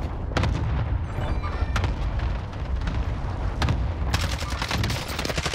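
Gunfire in a Call of Duty match with an Amax rifle, several sharp shots and bursts spread through the clip over a dense, steady wash of game noise and rumble.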